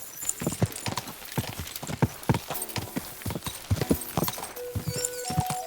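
Horse hooves clip-clop at a steady riding gait in the medieval video game Kingdom Come Deliverance 2, with a short whinny near the end and no speech over it.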